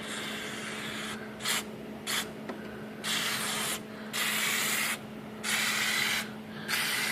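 Lubricant squirted into a window groove in several short bursts of spraying hiss, each about half a second to a second long and separated by brief pauses, close and moderately loud with no talk.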